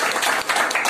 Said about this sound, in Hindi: सबसे पहले तो मैं चाहूंगा कि आप लोग जोरदार तालियां बजाएं